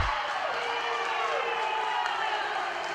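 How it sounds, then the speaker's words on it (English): Gymnasium crowd at a high school volleyball match between Rossville and Clinton Prairie reacting to a referee's call, a steady dense roar of many voices with cheers and shouts, loud and sustained throughout. "the crowd didn't like that call"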